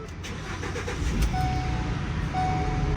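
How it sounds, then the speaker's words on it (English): Ford Transit van engine cranks and catches at close range, settling into a steady low idle with faint tonal whine over it. "This thing started right up without any issues"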